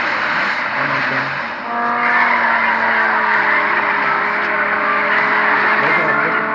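A Chevrolet race car engine in a racing video game drones steadily, then rises and sustains a bright, harmonic whine as the car speeds up.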